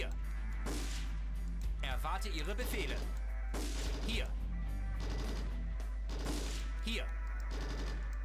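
MG42 machine gun bursts in a Stalingrad battle video game, heavy rapid firing in repeated bursts mixed with battle noise and explosions, while someone talks over the action.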